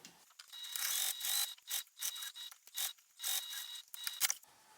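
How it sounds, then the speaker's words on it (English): A sewing machine top stitches a fabric sling in short bursts of fast mechanical whirring, stopping and starting several times, close and fairly quiet with no talking. "go ahead and top stitch from one side all the way up to the other"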